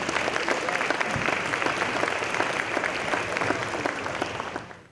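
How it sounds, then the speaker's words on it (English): An audience at a Lorain City Schools state of the school address applauds the new school building with steady, dense clapping that fills the room for about five seconds before tapering off at the end. "let's give a round of applause for this great building"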